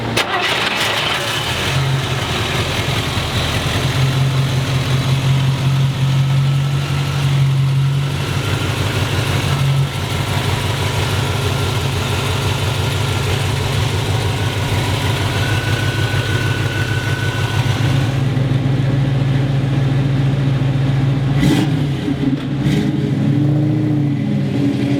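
A 1967 Chevrolet Camaro RS engine starts and runs loud and close, settling into a steady rumbling idle with occasional blips of revving, heard alone without voices.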